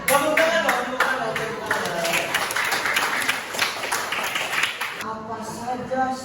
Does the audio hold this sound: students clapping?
yes